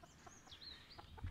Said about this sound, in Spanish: Aquí como veis las gallinas.